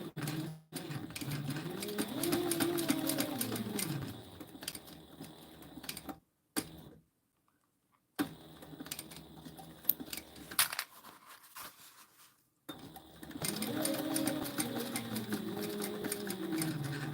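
Sewing machine stitching through heavy backpack fabric during a drone EDC backpack repair, running in bursts of rapid mechanical chatter separated by short pauses and near silence, loud and close with no talk.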